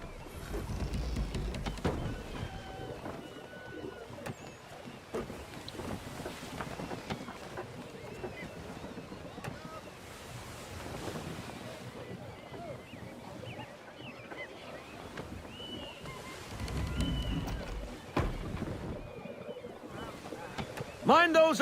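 Sailing ship moving through water in Assassin's Creed 3, with a continuous wash of waves against the hull, rushing wind and creaking, swelling and fading over time beneath intermittent voices.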